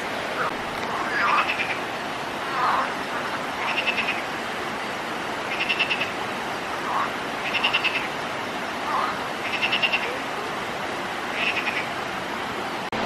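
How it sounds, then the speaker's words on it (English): A frog near a waterfall in Marmaris, Turkey croaks in about six short rattling bursts spaced roughly two seconds apart, moderately close over a steady rush of falling water. "There's a frog, yeah, he's moving now."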